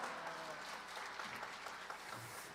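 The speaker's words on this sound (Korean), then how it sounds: "박수로 우리 목사님을 환영하겠습니다" A Korean church congregation claps to welcome their pastor at a New Year worship service, a soft, continuous patter of many hands heard from some distance, fairly quiet and even.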